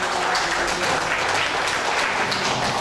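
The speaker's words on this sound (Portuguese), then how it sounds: "Agora temos que aplaudi-la, porque ela foi a última aluna de Fang." Steady audience applause at a ceremony in a cultural centre's academy, a continuous, fairly loud wash of many hands clapping with no talk over it.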